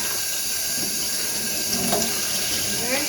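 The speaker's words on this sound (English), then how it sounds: "So I'm just going to keep rinsing this through until the water runs clear." A cotton hat being rinsed with plain water under a running tap in a sink, a steady, close hiss of flowing water throughout with faint splashing as the fabric is worked.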